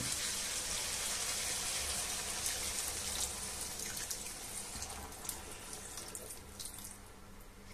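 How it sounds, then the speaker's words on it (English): Kitchen tap running water into a cooking pot while making a sausage, rice and peas lunch, a steady close hiss and splash of flow that continues for several seconds without talk. "I'm gonna top it up with water"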